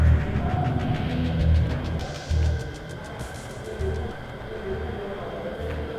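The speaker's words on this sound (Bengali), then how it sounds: "ট্রেনের দিকে একটু নজর রাখিস" A train rumbling along with a rhythmic clatter of wheels on the rails, a steady mechanical drone underneath.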